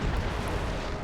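Cannon artillery fire in a Napoleon: Total War battle, a dense rumbling roar of booms blending into a steady low thunder without a break through the short stretch.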